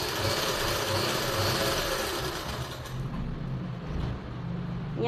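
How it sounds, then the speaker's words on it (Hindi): Electric sewing machine joining the shoulder seam of a lined silk suit, a steady continuous mechanical whir running for several seconds with a slight drop in pace near the end. "तो अब देखिए अब हम लगाएंगे कंधी की सिलाई इस तरह से"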